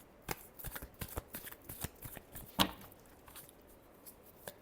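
Tarot cards shuffled in quick bursts of crisp riffling flutters and taps, close and fairly quiet, with one sharper snap near the middle and no talking.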